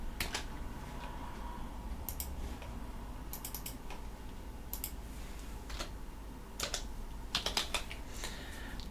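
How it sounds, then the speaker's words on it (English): Computer keyboard typing at a desk, quick bursts of close key clicks separated by short pauses, over a faint steady hum and with no talking. "So basically I'm going to type everything."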